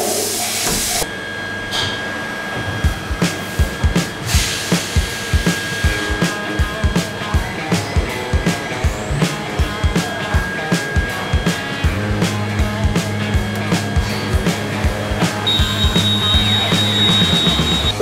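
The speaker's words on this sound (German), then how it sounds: "Mit verschiedenen Werkzeugen wird jetzt einfach die Felgen noch fertig gefräst." CNC milling machine cutting custom wheel rims for a moped car project, a steady machine drone with a rapid series of sharp, regular cutting knocks and tonal whine, loud and close with no talk.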